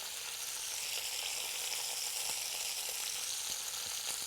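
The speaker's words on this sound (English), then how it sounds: "You can really hear it sizzling." Chicken pieces sizzling as they brown in a pan, a steady dense hiss of frying with faint crackles, close and continuous, no voices.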